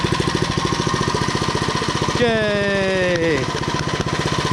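A Predator 79cc engine on a Mega Moto 80 minibike idles with a rapid, steady chugging putter, loud and close, while a voice cheers briefly over it.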